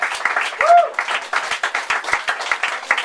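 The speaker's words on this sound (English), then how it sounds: "I'd like a round of applause for Matt" Audience applause filling the room, a burst of clapping from a gathered crowd with a brief tonal whistle-like sound near the start, moderately close and continuous.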